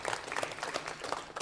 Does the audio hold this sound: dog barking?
no